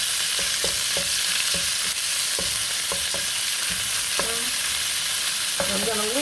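Ground turkey sizzles steadily in a hot pan while a utensil scrapes and stirs it in scattered strokes, with the frying hiss constant and close and no voices.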